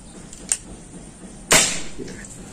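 A slug fired from a Predator bullpup airgun with a 40 cm seamless barrel: a light cocking-style click, a pause, then one crisp, loud nearby crack with a brief decaying tail.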